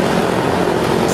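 A steady, broadband roar from an airplane engine in a realistic Minecraft flight simulator, loud and unbroken throughout, like a close propeller aircraft drone.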